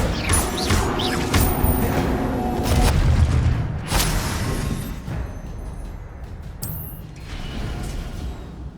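Incendio fire spells cast in Hogwarts Legacy: repeated loud magical bursts and crashing booms, one after another over a dense, continuous game soundscape.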